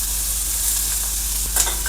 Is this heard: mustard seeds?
yes